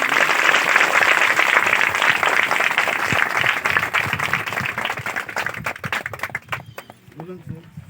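A congregation claps in praise during a tribal Christian wedding, a steady dense wash of hands that gradually thins and breaks into scattered claps toward the end, with voices heard faintly underneath.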